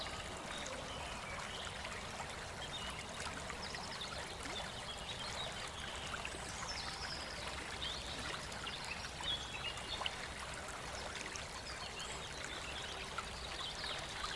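Mountain spring water flows and trickles continuously in a soft, even stream at Anjukulipatti, Dindigul district, faint and steady throughout with no voices.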